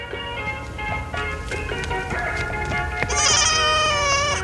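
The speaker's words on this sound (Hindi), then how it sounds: "एक बकरी का बच्चा पकड़ लाया है, उसी का नाम इसने टाइगर रखा है।" A young goat bleats in a string of nasal, wavering cries close to the listener. The last call is loud and drawn out, and no one speaks.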